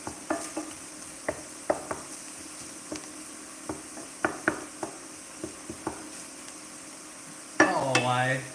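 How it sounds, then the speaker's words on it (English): Breakfast sausage browning in a pan, with a low sizzle under a series of scattered taps and scrapes of a utensil, then a brighter burst of sizzling near the end. "just got some breakfast sausage browning up there"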